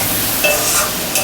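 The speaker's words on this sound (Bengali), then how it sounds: "মশলার কাঁচা গন্ধ ছাড়া পর্যন্ত কষাবো কিছুক্ষণ ধরে" A spice paste with salt and turmeric sautés in a pan for a Bengali mustard-sauce pabda fish dish, producing a brief, close sizzle with a quick scraping stir.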